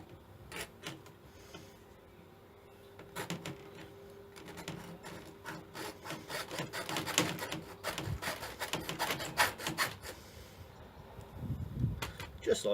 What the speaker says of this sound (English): I'm going to cut some notches in.